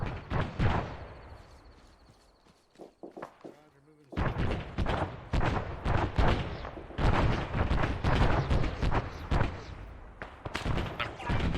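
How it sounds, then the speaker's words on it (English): Grenade fire in the ARMA 3 military game: repeated thuds and blasts land in a dense, irregular barrage, with voices talking over the combat. "Looks like grenade fire to the northwest."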